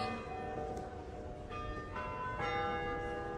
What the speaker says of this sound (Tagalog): church, nag-bell na naman